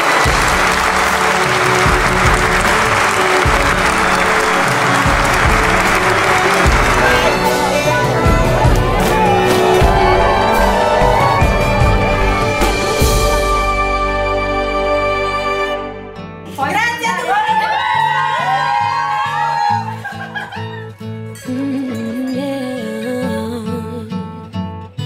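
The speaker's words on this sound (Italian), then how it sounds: "noi adesso vi applaudiamo, incoraggiandovi mentre voi saltate" Wedding guests clap and cheer as the couple jumps, a loud, dense burst of applause with raised voices that gives way to chatter and tonal sounds in the later part.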